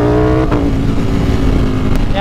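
A Ducati Streetfighter V4 motorcycle engine runs loud and close with a steady, rumbling tone, rising briefly in pitch near the end as it revs.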